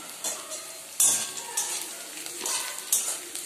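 Black cumin seeds fry in hot oil and are stirred with a spatula, a steady close sizzle broken by several sharp scraping strokes and crackles, with no voices.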